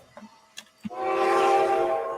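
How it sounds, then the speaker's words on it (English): A steam locomotive sounds its Nathan 6 chime whistle in one sustained, loud, rich multi-tone blast, after a few faint knocks. "Its main whistle is the Reading 6, but its secondary is its old Nathan 6 chime."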